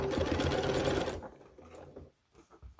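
A sewing machine stitching a seam on a fabric tube runs close and loud in a steady rapid whir for about a second, then stops and leaves soft handling noises and fabric rustles.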